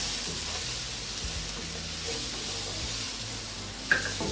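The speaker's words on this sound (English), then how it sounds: "I'm adding my peppers now, as well as my red, green, and my Scotch bonnet pepper to that" Red and green peppers with a Scotch bonnet stir-fry over high heat in a pan, a soft, steady sizzle with light stirring scrapes and a small clink near the end.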